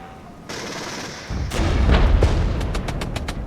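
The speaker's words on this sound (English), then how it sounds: "And heavy artillery strike these boys." A heavy artillery strike in the strategy game Regiments: a deep rumbling boom builds and swells into a sustained roar, followed by a rapid string of sharp distant impacts near the end.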